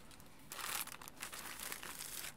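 Crinkly wrapping slides off the box of a Logitech POP Keys mechanical wireless keyboard, a soft, close rustle that swells after a short pause and carries on steadily to the end with no talking.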